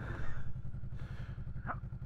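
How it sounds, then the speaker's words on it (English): A loud tractor engine idles steadily with a regular low chugging pulse, close by, with a brief higher clatter near the end. "Turn that noisy fucking tractor off."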